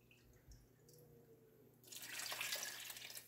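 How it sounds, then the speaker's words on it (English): Soft background noise, then water begins pouring and splashing into a soup pot, steady and close for the last second and a half. "put the rest of our water in here"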